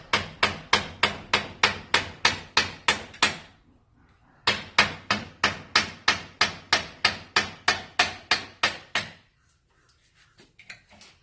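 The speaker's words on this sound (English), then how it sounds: "Proper hammer." A hammer pounds on a stuck brake part of a Scion XD, about a dozen loud, evenly paced metallic blows, a short pause, then another run of ten or so, ending in faint clinks.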